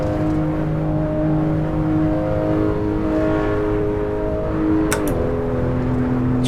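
A Porsche Macan Turbo in the Assetto Corsa racing game, driven on the Nordschleife, holds a steady, loud engine drone with a slight rise in pitch as it accelerates, broken near the end by a brief gear-shift dip.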